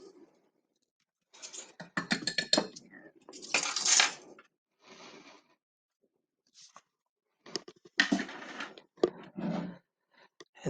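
A spoon gently mixes sprinkles into cupcake batter in a cup, giving soft intermittent clinks and scrapes in short bursts separated by quiet gaps, close and fairly faint.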